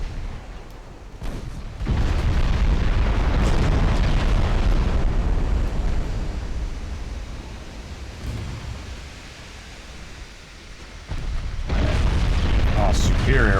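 Naval gunfire and shell explosions from the warship battle game Rule the Waves, a dense run of deep booms and rumbling blasts, loudest at the start and end, with someone talking over them.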